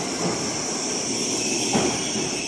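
A bullet train rumbles through a JR station in Japan with a steady, close rolling roar and faint rail squeal, no voices.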